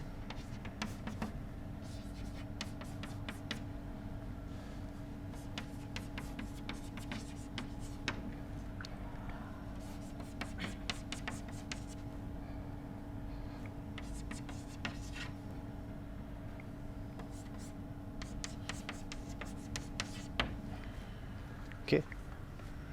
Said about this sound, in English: now I write the linear program and you interpret it for me